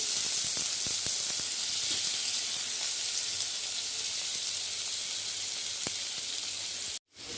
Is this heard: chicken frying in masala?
yes